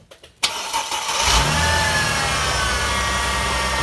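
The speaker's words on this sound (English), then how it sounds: "start the engine please" A Mercedes engine cranks briefly and catches, then settles into a steady close idle during a transmission fluid flush, with the engine running on without pause.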